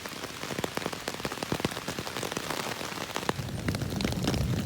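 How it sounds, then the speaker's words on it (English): Heavy rain drums steadily on a tarp shelter during a thunderstorm, a dense, close patter of drops that continues without pause and with no voices. "The weight of all the rain did cause the tarp to sag somewhat"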